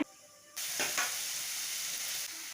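Mustard seeds and cumin hit two spoons of hot oil in a kadai and burst into a loud, steady sizzle with a few sharp pops at the start, holding close and bright for about two seconds.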